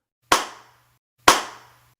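Two sharp, loud hand claps spaced about a second apart, each ringing briefly into reverb against near silence, as a sound effect in a creepy story narration.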